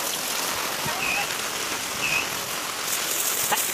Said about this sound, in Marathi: काय पावसाला कसला जोर आलाय